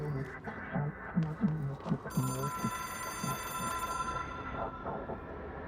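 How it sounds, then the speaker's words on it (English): An old-style telephone rings in the video game Control, a bright sustained bell tone that starts partway in and holds for a couple of seconds under a person talking. "It is a phone."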